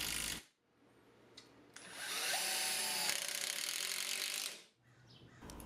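A Ridgid 12V palm impact driver runs in a single sustained burst of a few seconds, driving machine screws together on a miter saw stand. It gives a close, rattling hammering whine, with quiet shop noise before and after.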